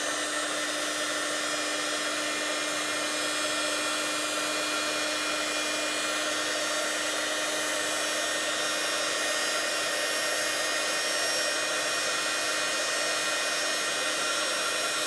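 Heat gun melting embossing powder on a scrapbooking die-cut, a constant loud blowing whir with a steady motor whine and no break across the whole stretch.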